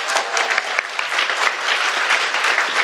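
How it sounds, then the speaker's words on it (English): Audience applause for candidates at the close of a Washington OSPI election debate, a dense, steady burst of many hands clapping that fills the room for a few seconds with no voices over it. "Let's give them a round of applause, shall we?"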